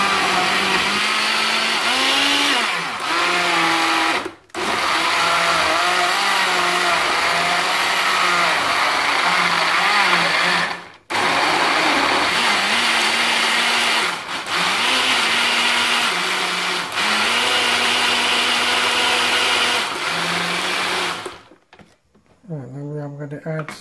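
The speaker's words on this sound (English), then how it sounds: "Okay, so let's blend them a bit." A kitchen blender whirs loudly as it purees mango and banana with coconut milk for a tropical smoothie, running in long steady bursts with brief stops and changes in pitch before it winds down, while a person talks over it.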